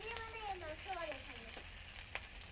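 Bora fritters frying in hot oil, a faint, steady sizzle close by, with a voice talking briefly over it at the start.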